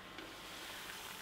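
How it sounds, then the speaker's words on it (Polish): Vegan doughnuts fry in hot sunflower oil, a steady, even sizzle and bubbling that holds at a soft level throughout, with no voices over it. "I bardzo ostrożnie, delikatnie wkładam na rozgrzany olej słonecznikowy."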